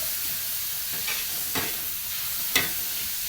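Tomatoes fry in a pan for egg bhurji under a steady hiss of sizzling oil, with two distinct stirring scrapes standing out from the close, even frying noise, no voices.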